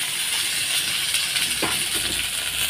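Potatoes drop into hot oil with dried red chillies, bay leaf and panch phoron, producing a brief, steady, close sizzling hiss with a faint clink partway through.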